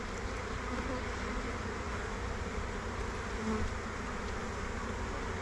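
A hive of honey bees in an 8-frame box, on the verge of swarming, gives a faint continuous hum of many bees buzzing close by with no voices.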